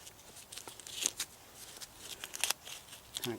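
Waxed cotton pad torn into a strip by hand, a few quiet crackly rips and rustles close by with short pauses between, no one talking.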